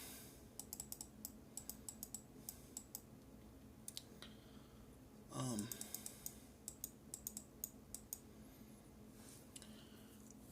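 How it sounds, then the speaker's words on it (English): Computer keyboard typing and mouse clicking on a home computer, a steady run of quick light clicks in irregular bursts, close and fairly faint over a low background hum with a brief rustle midway. "I've been clicking on my mom's computer"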